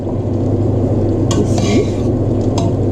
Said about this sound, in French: mon riz qui est 3/4 cuit, bah, je vais l'égrener